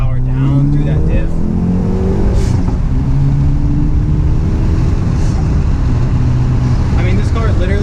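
A Hyundai Veloster N pulling hard under power, loud engine note rising and falling through gears with heavy road and wind roar, heard close from inside the cabin.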